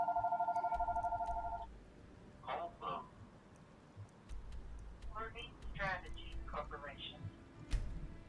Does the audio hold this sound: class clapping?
no